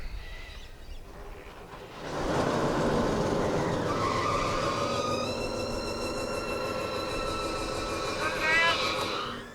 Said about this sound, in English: We'll go and hit the starter and see what happens.